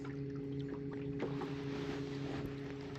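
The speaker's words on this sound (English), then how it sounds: "just troll with the trolling motor" An electric trolling motor hums steadily on a fishing boat cruising slowly through marsh water, a constant low whine with light splashes and knocks against the hull.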